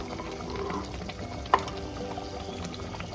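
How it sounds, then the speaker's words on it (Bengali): Pabda fish frying in a pan, a steady soft sizzle and bubbling with one small sharp pop in the middle, moderately quiet and without voices. "আর এদিকে হচ্ছে পাবদা মাছ ভাজা।"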